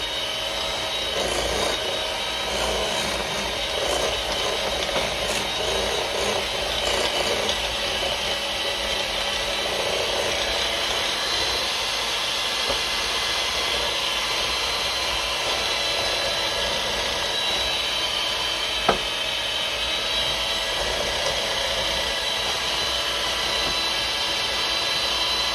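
An electric mixer beats butter, sugar and cream cheese together for a heart attack dip, a steady loud whirring drone that runs unbroken from start to finish with no talk over it.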